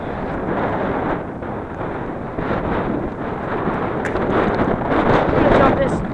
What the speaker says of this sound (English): This wind is so bad.